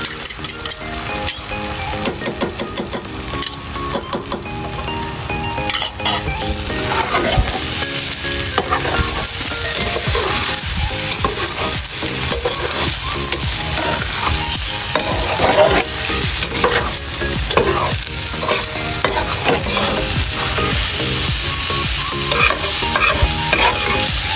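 Egg frying with tomatoes in a pan over an outdoor riverside breakfast fire: loud, continuous sizzle with steady stirring and scraping from a utensil, close and unbroken for the whole stretch, with no talk.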